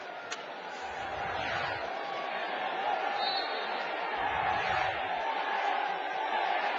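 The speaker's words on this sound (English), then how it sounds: "So the crowd counting down the final seconds of this game." A large stadium crowd at a hockey semi-final roars steadily throughout, a dense, continuous wash of voices and cheering without clear individual counts, with a commentator's voice faintly underneath.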